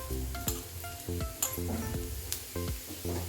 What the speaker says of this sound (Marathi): धने भाजून घ्यायचे यामध्येच आपल्याला बडीशोप मिरे घेतलेले आहेत आणि दालचिनी घेतलेली आहे ते पण भाजून घ्यायचे